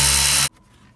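Power tool whirring for half a second as a 7mm bolt is removed from under Ford F-150 dash trim, cutting off abruptly into near silence with a faint click.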